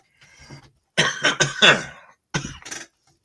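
A short burst of harsh coughs after a bong hit, several in quick succession, close and loud, followed by a couple more after a brief pause.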